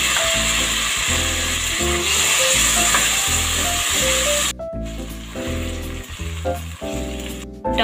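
Chopped tomatoes sizzle and fry loudly in a pan of golden-browned base for spicy pasta, with a steady hiss, a sudden louder sizzle as they go in, and spoon stirring clinks nearby.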